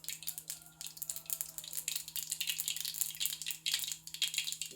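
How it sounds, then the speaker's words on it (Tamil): Mustard seeds spluttering in hot sesame oil, a faint, continuous crackle of small pops and sizzling close by with no speech. "கடுகு போட்டு நல்லா வெடிக்கணுங்க."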